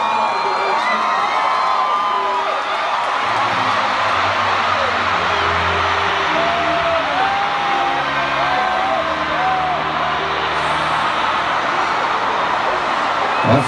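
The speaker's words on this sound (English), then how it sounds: "Give yourselves a round of applause." A huge concert crowd at a live show roars with cheering, whoops and shouts over steady applause, a dense, loud wall of sound with individual yells rising above it throughout.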